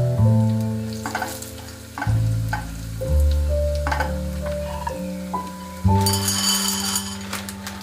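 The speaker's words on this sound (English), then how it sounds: "Meanwhile, I will shallow fry some cashews and mini soya chunks." Cashews and mini soya chunks shallow frying in oil, a steady close sizzle with stirring and occasional clinks of a utensil, no talking.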